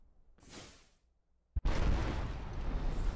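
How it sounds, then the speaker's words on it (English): An explosion goes off in the video game DawnCraft: a soft whoosh, a short pause, then a sharp blast that rolls into a loud, sustained rumble to the end. "the explosion didn't actually damage it for some reason"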